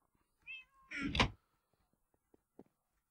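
Cat meows from a Minecraft modpack game, two close, loud meow calls in quick succession followed by a few faint clicks and taps with no talking.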